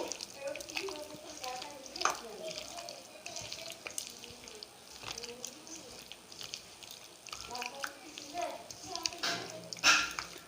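Ground cumin and coriander powder are stirred into a batter for crispy lote fish (Bombay duck) pakora, giving irregular wet scraping, clinking and sloshing sounds with close handling noises throughout.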